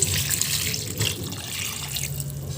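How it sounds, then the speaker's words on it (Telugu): Water splashes and runs steadily, as if poured from a vessel into a cooking pot, close by and continuous. "తర్వాత ఇందులో 2 గ్లాసుల నీళ్ళు వేసుకుందామండి"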